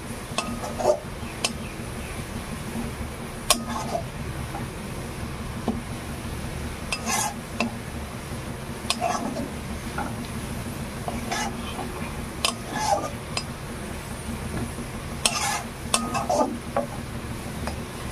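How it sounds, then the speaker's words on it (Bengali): Onions frying in a pan before lentils go in, with a low steady sizzle and sharp metal clinks from the stirring spoon scraping the pan every few seconds. "পেঁয়াজটা দেখুন খুব সুন্দরভাবে ভাজা হয়ে গেছে, আর একটু ভেজে নেব"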